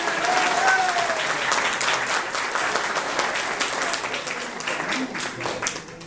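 An audience applauds in a dense, continuous wash of clapping that runs the whole time, with a loud voice heard over it early on.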